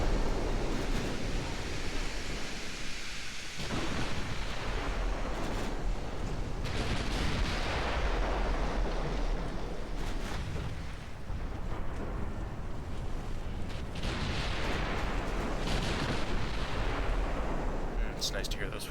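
In the naval game Ultimate Admiral Dreadnoughts, 14-inch guns fire heavy booming salvos at intervals over a constant wash of sea and wind, with a voice faintly in the background.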